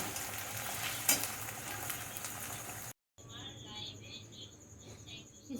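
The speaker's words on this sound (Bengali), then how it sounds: "আমি আলুটা একটুখানি ভেজে নিচ্ছি আলুটা একটু ভেজে আমি তুলে নেব" Potatoes frying in mustard oil for ghugni give a soft, steady sizzle with occasional stirring clinks, fairly quiet; after a brief gap the frying continues fainter with insect-like chirping in the background.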